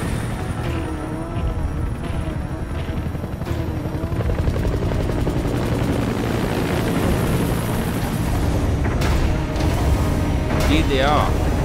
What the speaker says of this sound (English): Support helicopter requested.